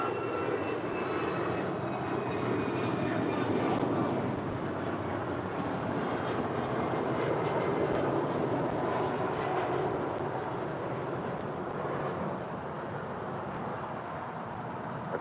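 A FedEx heavy jet takes off from runway 25 right at LAX, producing a loud, steady, broadband engine roar that holds throughout and eases slightly toward the end, with no voices.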